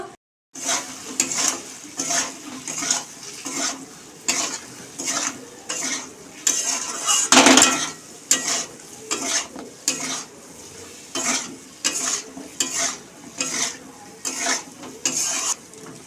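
Ridge gourd stirred and fried in a pan with cumin, coriander and chili powder for a fish curry, a steady rhythmic scraping of a utensil against the pan over soft sizzling, with one louder clatter midway.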